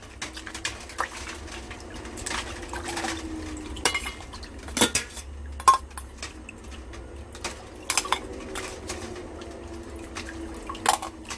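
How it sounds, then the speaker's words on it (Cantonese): Fresh abalone rinsed by hand in a basin of water, with clinks and knocks of shells against the container and soft splashing, close and fairly quiet, no talk. "我哋擺咗落盆水度，我哋約略清洗佢一次先。"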